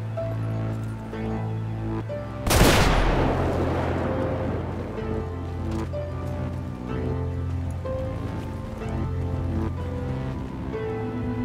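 One loud blast from a gunshot hitting a barrel in GTA 5 zombie survival, a sharp explosive burst that decays into a long crackling tail over steady game music.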